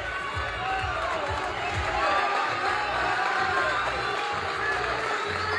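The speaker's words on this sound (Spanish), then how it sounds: "El aplauso para Soria" A crowd at a boxing night applauds boxer Claudio Soria, a steady, dense roar of clapping and cheering that fills the hall throughout, with voices mixed in.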